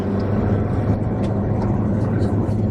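A 2010 Ford Fusion engine, just back from a spark plug repair, runs with a steady, close, droning hum and a smooth, even low rumble across the whole stretch.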